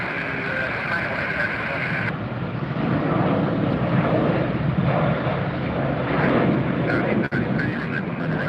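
An American Airlines airliner takes off from runway 19 right at Tampa airport, its engine roar loud and steady throughout, with a brief dip near the end and radio chatter mixed in.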